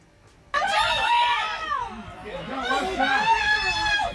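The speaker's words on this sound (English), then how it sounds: "you're hearing is some of the reaction from the clearly very distressed crowd after he was killed and the panic which ensued" A distressed crowd screams in panic after a shooting at an outdoor rally. Many loud, overlapping shrieks and cries burst out together and continue close by, with shouting voices mixed in.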